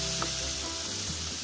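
Coriander powder and other spices fry gently in oil while chamsur and spinach greens are cooked, giving a soft, steady sizzle close by, with a light stirring knock at the end and no talk.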